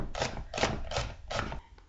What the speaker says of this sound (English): I'm going to take that and actually mince some of it.